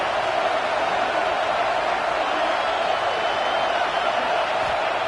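A home crowd at a college football game against LSU cheers in a constant, loud roar that fills the space evenly and never dips.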